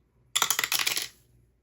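A small D4 die tumbling down a dice tower: a sudden burst of rapid hard clattering clicks lasting under a second, close and crisp, then quickly settling into silence.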